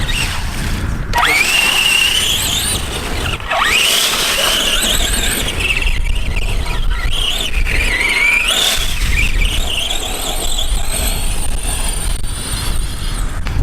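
An ARRMA Granite 4x4 mega monster truck on a 2S LiPo whines steadily across rough terrain, its electric motor squealing and rising in pitch as it climbs, loud and close throughout with no talking.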